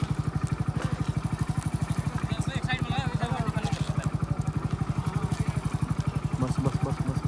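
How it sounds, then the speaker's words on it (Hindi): A motorcycle engine runs at idle close by, a fast, even thumping pulse that continues throughout while people talk nearby. "बंद ना करी मोटरसाइकिल।"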